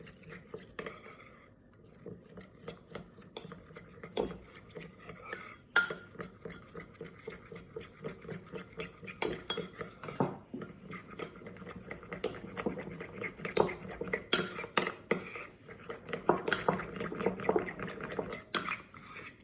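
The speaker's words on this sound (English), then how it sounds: "I'm going to add enough water to make it into a paste that's pipeable." A spoon stirs plain flour and water into a thick pipeable paste in a bowl, for topping hot cross buns. Irregular scraping and clinking against the bowl come and go close by, with no talking.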